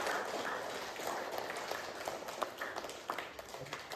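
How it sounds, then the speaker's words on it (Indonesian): Group clapping after a school poetry musicalization project, fairly quiet and somewhat distant, with uneven scattered claps over a few seconds. "Tepuk tangan untuk kita."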